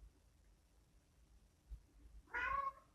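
A pet cat lets out a single loud, drawn-out meow close by after a stretch of near silence and faint rustling.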